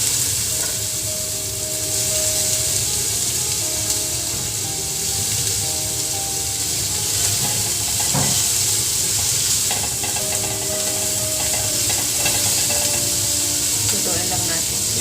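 Chopped onions sautéing in a pan for chicken-feet adobo give off a steady loud sizzle and hiss, broken by occasional stirring clatter, while a voice talks faintly underneath.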